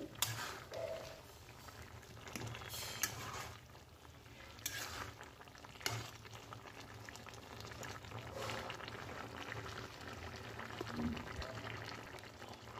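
A vegetable curry with lentil dumplings bubbles and simmers softly in a pot, faint liquid burbling with occasional clinks and stirring knocks while a person speaks over it.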